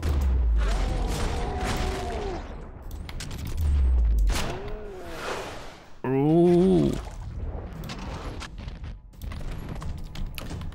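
Gunfire in the video game Max Payne 2, played with the Payne Evolution mod. Several sharp shot bursts are heard among game voices and tonal effects, moderately loud and spread irregularly across the stretch.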